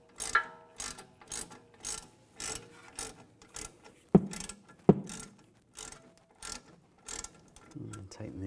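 Ratchet clicking in short bursts while tightening brake caliper pin bolts on a 2004-2010 BMW X3 front brake, close and distinct, with a couple of sharp metallic knocks between the bursts.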